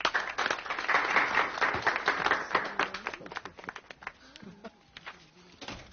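Applause in a courtroom, a crowd clapping in a dense patter that thins into scattered claps over several seconds, with murmuring voices underneath.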